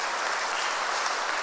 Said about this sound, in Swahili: Situpige Yesu makofi jamani.